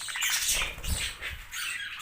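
Harsh, chattering squawks from a male budgerigar repeat in quick bursts, close and fairly loud, with fluttery noise between calls.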